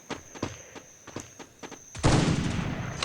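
Gunfire in the mobile battle-royale game Free Fire: a quick series of sharp shots, then a sustained dense burst of firing, with a steady high tone running underneath.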